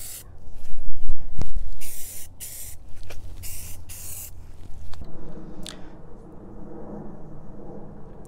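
Repeated bursts of aerosol spray painting, short hissing blasts close by, followed by a quieter stretch with lighter hiss and faint handling sounds.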